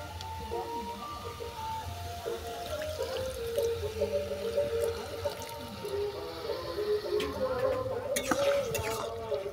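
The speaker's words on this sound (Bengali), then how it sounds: "এরপর দিয়ে দেবো পরিমাণ মতো জল।" Water is poured into a pot of lentil-free thor ghonto (banana-stem curry) made with cucumber, heard as a soft, running liquid pour with drips. Faint tonal background sounds sit underneath.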